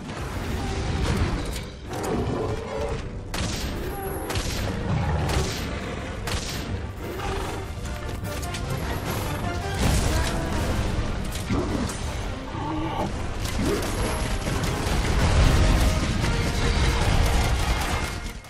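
Hunter firing a bowgun at a monster in Monster Hunter World, with repeated sharp shots and booming impacts over a dense, loud game soundtrack of clanks and crashes throughout.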